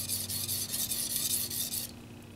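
A Tojiro knife of hard, abrasion-resistant steel is stroked across a sharpening stone with steady, close rasping strokes that run continuously for about two seconds, then drop away to faint stillness.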